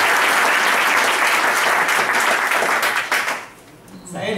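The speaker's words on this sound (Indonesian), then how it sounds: "Oke, tepuk tangan teman-teman." Audience applause after a speaker's cue at an Indonesian talk, loud and sustained from a crowd for about three seconds, then quickly tapering off as the room quiets.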